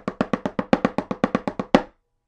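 Drum played as a 17 stroke roll: a quick run of about a dozen crisp, evenly spaced hits, each decaying fast, ending in one louder accent stroke before silence, close and dry.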